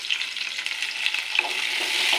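Onions fry in hot oil with a dense, continuous crackling sizzle, close and steady, with light stirring and no voices.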